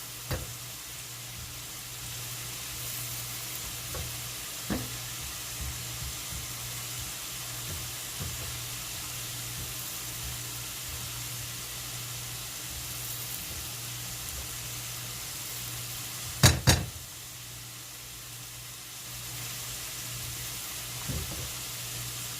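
Salt and pepper chicken wings frying in a pan, a steady low sizzle running throughout, with a few faint stirring knocks and a brief sharp clatter of utensil on pan near the end, no talk.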